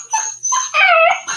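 Otis the dog whimpers and lets out high, whiny yips in short bursts with gaps between them, close by and fairly loud, with no talking.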